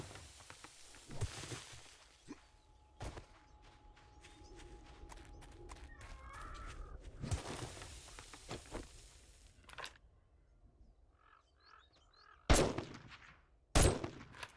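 Video game gunfire with a few loud, sharp isolated bursts and shots spaced through a quieter stretch of footsteps and ambient game sound; none of it sounds like a sustained full-auto stream.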